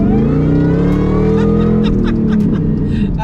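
A Ford F-150 SVT Lightning pickup pulls hard at full throttle, its engine roaring loud and close with rising, sustained revs throughout.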